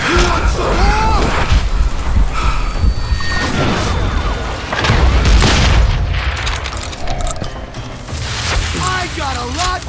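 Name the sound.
dynamite explosions in the video game Call of Juarez: Gunslinger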